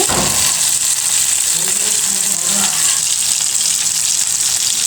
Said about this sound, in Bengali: এবার মাছগুলো আমি উল্টে দিব